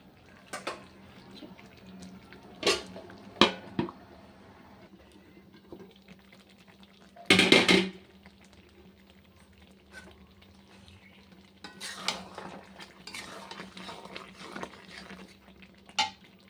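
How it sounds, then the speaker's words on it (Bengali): Mutton curry cooking slowly over low heat in a pan, with soft scraping and stirring sounds, scattered clinks of a spoon against the pot, and one louder sizzling burst partway through. "কম আঁচে দিয়ে একদম আস্তে আস্তে মাংস করছি।"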